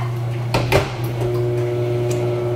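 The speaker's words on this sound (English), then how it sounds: "I do microwave them" A microwave oven running: a steady low electrical hum drones throughout, with a couple of clicks and clatters near the start.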